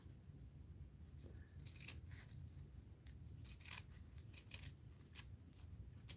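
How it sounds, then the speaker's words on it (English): Scissors snip through paper for an art journal in a run of quiet, close, repeated cuts with small rustles between them and no talking. "Let's cut this let's kind of cut it"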